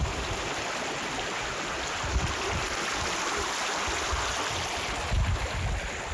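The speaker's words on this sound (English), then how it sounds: "Passing the river" A river rushes past steadily during a hike, a broad continuous wash of flowing water with occasional gusts and bumps close to the microphone and no talking.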